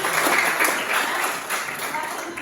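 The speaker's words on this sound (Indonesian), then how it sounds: "Ya, tepuk tangan" A classroom of students applauding at a teacher's prompt, a steady wash of clapping that holds for a couple of seconds and slowly thins, fairly close and filling the room.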